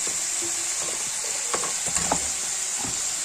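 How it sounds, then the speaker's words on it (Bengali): Potatoes frying in a pan as a high, even sizzle runs throughout, with a few faint clinks and scrapes of stirring partway through. "এদিকে এদিকে বসিয়ে দিয়েছি আলু ভাজা"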